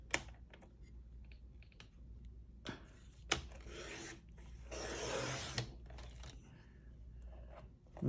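Fabric strip cut for a scrap quilt: a few scissor snips and rasping cuts, with two longer bursts of rubbing and cutting noise partway through, close and moderately quiet, no talking.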